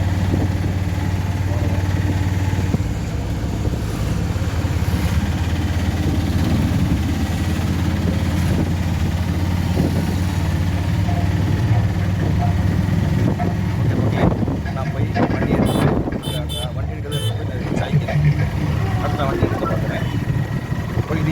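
Motorcycle engine droning steadily after a general service while the bike rides along, with a constant rumble and road noise throughout and a brief louder rattle near the end.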